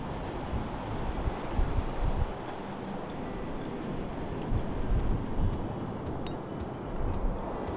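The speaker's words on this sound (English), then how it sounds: "Just look how powerful these waves are, look how big they are." Heavy ocean surf roars continuously on an Icelandic beach, waves crashing and washing in rolling surges, mixed with strong wind buffeting the microphone.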